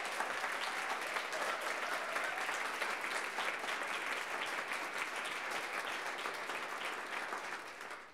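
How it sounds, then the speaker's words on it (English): A lecture hall audience gives the graduating class of 2018 sustained applause, a dense, even wash of many hands clapping together that holds steady and then tapers slightly at the close. "Can you give them a round of applause?"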